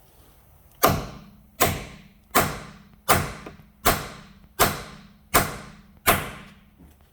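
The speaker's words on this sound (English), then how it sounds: "Get a trusty dead blow hammer like this one." A dead blow hammer striking a socket on a lug nut seized to the rim, eight sharp, evenly spaced near thuds about a second apart, each ringing briefly before fading.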